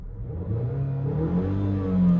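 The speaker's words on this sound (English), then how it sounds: "Mazda lets a lot of sound from that engine into the cabin." A 2022 Mazda CX-5 Turbo engine revs up steadily from inside the cabin, its low droning tone rising in pitch as it accelerates, with no soft rev limiter.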